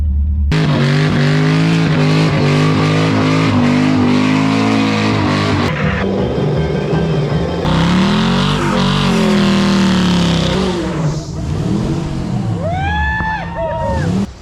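Hot rod cars rolling by at a lakeside car show, loud lumpy engine rumble with revving and shifting pitch as vehicles pass close, tires and other engines trailing off near the end.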